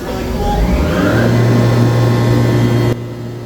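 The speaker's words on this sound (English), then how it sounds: "Tool tap. This will use the actual tapping unit." An HD CNC router's tapping unit drives a tap into material to cut a thread, giving a loud, steady mechanical drone with a rising whine that stops abruptly near the end.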